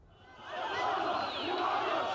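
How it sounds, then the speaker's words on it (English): Large crowd at a pro-Gaddafi rally in Tripoli, Libya, cheering and shouting together in a dense, sustained roar that swells after the first moments and stays loud to the end. "State TV shows Muammar Gaddafi with cheering crowds in Tripoli"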